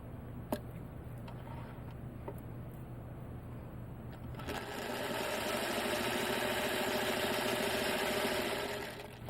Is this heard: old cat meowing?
no